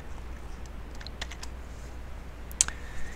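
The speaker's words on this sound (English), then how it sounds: "So we'll start typing in generator, control spacebar." Keys on a computer keyboard tap in scattered quick bursts, soft and close against a low steady hum, with a sharper clack near the end.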